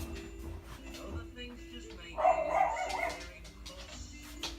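A dog barks and yowls in a short, fairly loud burst somewhere nearby in a quiet indoor room, then falls back to faint background noise.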